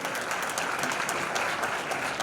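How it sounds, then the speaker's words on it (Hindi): An audience at a community talent award ceremony in Jhalawar claps loudly and steadily for an honoree. The applause is dense and continuous throughout. "जोरदार तालियां"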